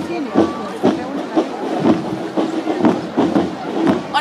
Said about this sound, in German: Und da hören wir auch schon die Trommeln des ersten Spielmanns.